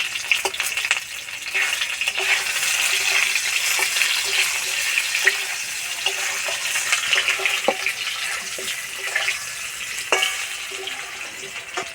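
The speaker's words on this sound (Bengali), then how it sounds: "এবার আলু ভেজে নেব" Potatoes frying in oil in a pan, a steady close sizzle with occasional stirring clicks, no voices.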